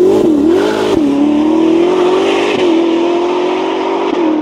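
A Novitec-tuned Ferrari SF90 Spider with the roof off accelerates hard, its engine a loud, close, sustained roar that climbs in pitch with brief dips at gear changes, no talking.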